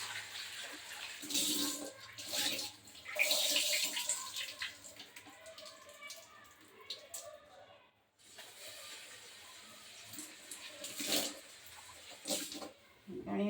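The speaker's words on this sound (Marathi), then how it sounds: "डाळ पण छान धुवून घेते मी" Water swishes and splashes in a bowl as toor dal lentils are rinsed, with soft stirring and trickling in irregular bursts, close and fairly quiet.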